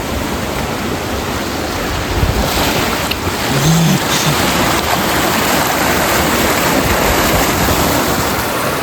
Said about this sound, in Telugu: వాటర్ ఫ్లోటింగ్ సౌండ్ అయితే చాలా గట్టిగా అనిపిస్తుంది కెనాల్ గేట్లన్నీ ఓపెన్ చేసినట్టున్నారు